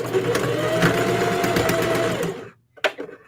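A Singer HD sewing machine runs steadily for about two and a half seconds stitching a wide zigzag on fabric, a close, loud continuous whir that stops abruptly, followed by a brief mechanical click.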